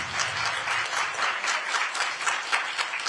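An audience at a launch ceremony claps in a steady, moderately loud round of applause with audible individual claps pulsing through the wash, lasting a few seconds without speech.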